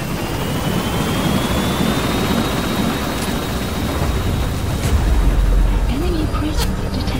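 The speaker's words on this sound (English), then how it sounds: "Get on the chopper. Gaining altitude." Helicopter lifting off and climbing in Metal Gear Solid V: The Phantom Pain, a steady loud rotor and engine drone with a thin rising whine, holding constant throughout while voices speak over it.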